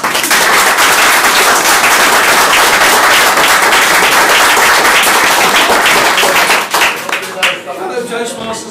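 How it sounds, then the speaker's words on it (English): A conference dinner audience of Toastmasters gives a long, loud round of applause, dense steady clapping from many hands that holds for several seconds before thinning out into scattered claps at the end. "So now you should give everybody a big round of applause just for that."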